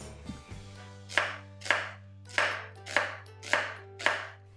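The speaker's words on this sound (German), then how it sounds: "Dann schneide ich Zwiebeln." Kitchen knife slicing onions into thin slices on a board, six evenly spaced crisp chops, close and distinct over a faint steady hum.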